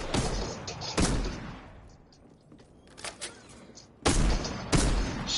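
Gunfire in the video game Fortnite, close loud shots, two sharp cracks early that ring out and fade, then a louder pair of blasts near the end.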